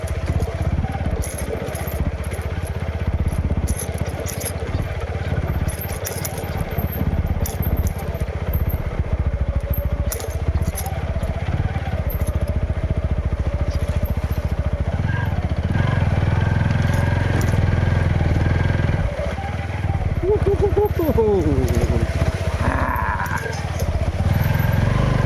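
A motorbike grinding slowly along a rough, rocky mountain track, engine droning and revving unevenly with rattles and clatter from the bumpy ground, close and continuous throughout.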